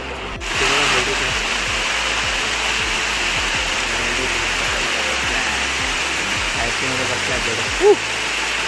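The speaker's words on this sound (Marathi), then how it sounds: "आणि हा धबधबा आहे, पाण्याचा धबधबा" Steady broadband rush of a waterfall, continuous and fairly loud throughout, with a brief higher sound near the end.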